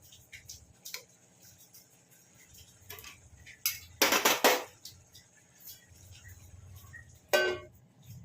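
A lid goes onto a pot of simmering bottle gourd curry (lau er dalna) in a home kitchen, giving a couple of sharp metallic clanks amid faint ticking and small clinks in a quiet room.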